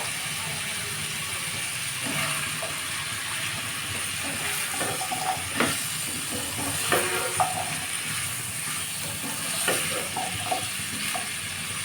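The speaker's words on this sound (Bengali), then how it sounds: "এবার আমি এটাতে গাজর অ্যাড করে দিচ্ছি" Carrots dropping into a hot frying pan with vegetables for a chicken Chinese vegetable dish, giving a steady close sizzle with scattered sharp clicks and stirring knocks, no voices.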